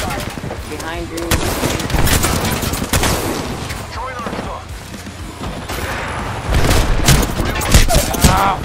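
Rapid bursts of gunfire fill a first-person shooter firefight, dense and loud throughout with overlapping shots and impacts, while players shout callouts over the shooting.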